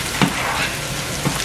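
Garlic fries in a pan over medium heat, giving a steady broadband sizzle with two brief louder crackles or stirs, close and on its own with no voices.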